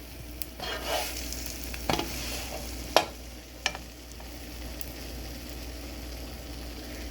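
A ham and cheese sandwich on waffles cooking in a pan gives a soft, steady sizzle, with a low hum beneath and several sharp clicks and scrapes from a utensil; close and moderate, with no talking.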